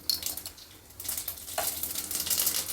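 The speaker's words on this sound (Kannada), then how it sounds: "ಎಣ್ಣೆ ಬಿಸಿಯಾಗಿದೆ ಎರಡು ಟೀ ಸ್ಪೂನಷ್ಟು ಸಾಸಿವೆ ಹಾಕಿದೆ" Mustard seeds, about two teaspoons, crackle and sizzle in hot oil in a pan while tempering for a roasted horse gram rasam, a steady close frying hiss with brief pops and no voices.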